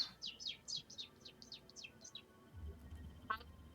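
A person imitates a bird call with a quick run of about ten high, chirping whistles, followed by a short pause and one more faint chirp, over a quiet background.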